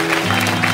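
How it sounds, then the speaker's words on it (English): A church congregation claps at a pastoral and church anniversary service, a continuous wash of hands over a sustained musical organ-like drone, moderately loud with no distinct single claps standing out. "One more time, clap your hands for them."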